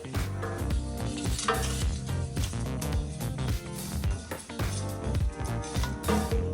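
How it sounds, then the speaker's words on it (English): Oil crackles and sizzles steadily in a frying pan, with bursts of louder spitting and frying noise and no voices. "I see the oil a little bit percolating on the bottom here"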